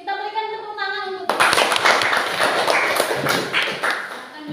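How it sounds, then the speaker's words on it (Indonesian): A classroom of sixth-grade pupils claps hands together, loud and dense, starting abruptly after a spoken voice and continuing steadily to the end. "Kita berikan tepuk tangan untuk"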